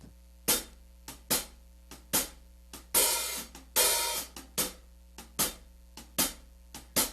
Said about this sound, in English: so the beat is going to sound like this just on the hi-hat.